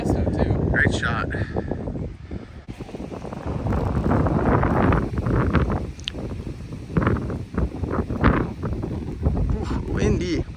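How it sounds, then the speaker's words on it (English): A strong windstorm gusts across the Anderson River Park disc golf course, roaring and buffeting the microphone in a loud, continuous rumble. People talk intermittently over the wind. "Oof, windy."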